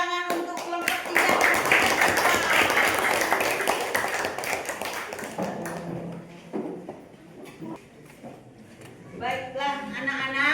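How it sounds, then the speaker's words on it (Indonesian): Classroom of children clapping for a student group, a loud burst of many hands that fades out after several seconds, followed by quieter scattered claps and voices talking. "Beri tepuk tangan untuk kelompok 3."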